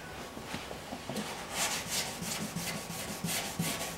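Wet sanding of paint runs on a 2006 Chevrolet Aveo's clear coat, a close rhythmic rubbing with repeated back-and-forth strokes that grows slightly louder midway, with no voices.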